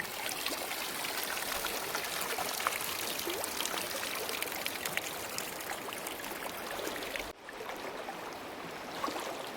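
Water pours from a container into a cooking pot in a steady, rushing stream, loud and close, with a brief break near the end before the flow resumes.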